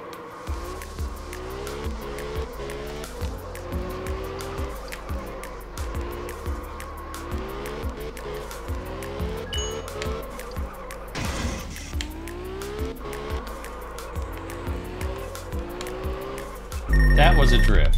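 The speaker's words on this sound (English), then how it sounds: "that was a drift" Car drifting in the racing video game Absolute Drift, with an engine revving in rising and falling gear steps and a steady tire squeal, loud and continuous, ending in a sharp burst of noise.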